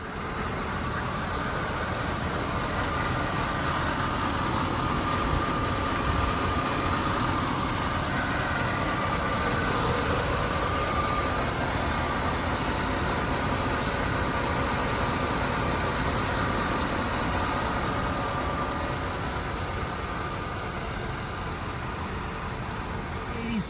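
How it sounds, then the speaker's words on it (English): A 1986 Chevrolet El Camino engine idles steadily and continuously at close range, a dense rumbling drone with a constant texture throughout. "We'll get that engine started, take a look at the engine bay"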